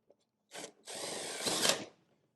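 Power drill driving an 8 gauge by 15 screw through a gutter guard clip into mesh on a Klip-Lok box gutter rib, a short blip then a sustained close whirring burst lasting about a second before stopping.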